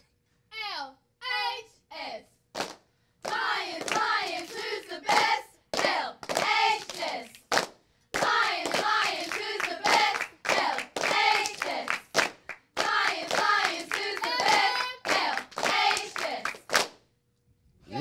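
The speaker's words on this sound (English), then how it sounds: "let's begin with a cheer from the Lions cheerleaders" A squad of Lions cheerleaders performs a cheer in a live studio setting, sharp rhythmic claps punctuating their bright chanted voices in quick bursts with brief pauses between phrases.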